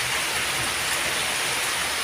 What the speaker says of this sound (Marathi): काय म्हणून पाऊस चालला आहे बघा